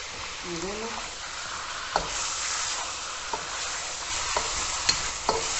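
Chicken fries with garlic-ginger paste in a steady sizzle, with a few sharp knocks and scrapes of stirring and a faint voice briefly in the background.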